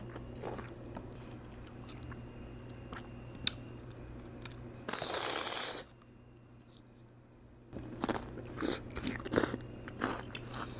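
Someone eating a sour chamoy pickle, close crunchy bites and wet chewing, with a burst of rustling mid-way, then more crisp bites and soft squishing; no clear talk.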